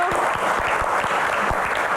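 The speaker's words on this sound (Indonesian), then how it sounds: "Tepuk tangan." Audience applause at a Q&A session with a young film director, a steady, even burst of clapping lasting throughout.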